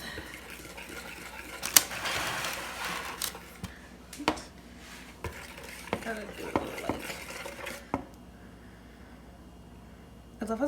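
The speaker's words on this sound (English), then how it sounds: "you kind of just mix it and then kind of go level to just swirl" A spoon stirring a scone glaze of sugar and butter in a bowl, with soft scraping swirls and occasional clinks against the bowl under steady talk.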